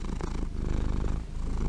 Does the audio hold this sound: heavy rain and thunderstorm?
no